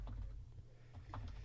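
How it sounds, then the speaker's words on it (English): Typing on a computer keyboard: scattered soft key clicks in quick, irregular bursts, faint and close, over a low background hum, with no talk. "What you typing?"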